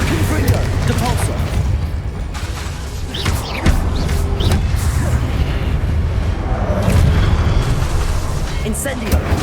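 Confringo blasting spells explode in Hogwarts Legacy, producing repeated loud booms and bursts over a dense, continuous wash of magical battle effects and rumble.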